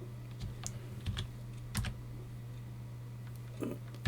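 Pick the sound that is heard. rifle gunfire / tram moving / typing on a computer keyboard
typing on a computer keyboard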